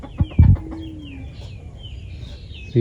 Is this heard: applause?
no